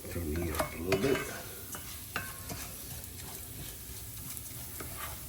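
Leeks and pancetta sizzle in a pan while being stirred, with scraping strokes in the first seconds before the sizzle settles into a steady, moderate hiss.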